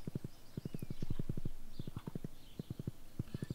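A horse in the Stardew Valley video game gallops with rapid, regular clip-clop hoofbeats in quick groups of three, steady and fairly faint, with no talking over it.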